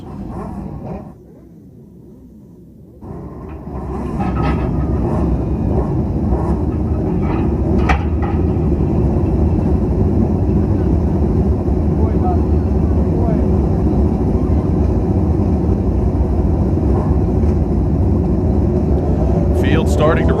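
Race car engines at Clyde Martin Memorial Speedway firing up and rolling off for a feature race: a sudden loud, continuous engine roar builds after a brief lull and holds steady, dense and near.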